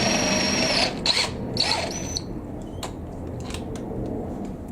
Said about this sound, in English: Go straight down into the edge of the 3/4 inch plywood.